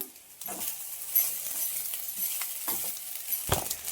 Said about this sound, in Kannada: ಹಾಕೊಂಡು ಒಂದ್ಸಲ ಮಿಕ್ಸ್ ಮಾಡಿಬಿಡೋಣ